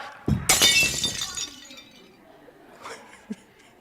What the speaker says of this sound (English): huge crashing sound